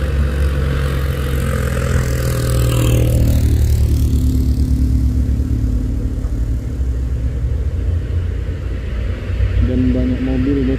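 A Hino truck engine turns over and runs after being cranked by hand. It makes a loud, close rumble that rises into a revving sweep and then settles into a steady idle, with people talking over it.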